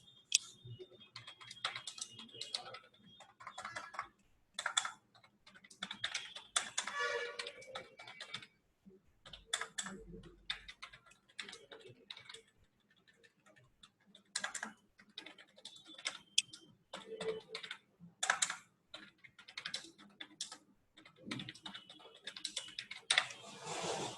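Fingers type on a computer keyboard in bursts of rapid clicking keystrokes separated by short pauses, close and fairly quiet, with no talking.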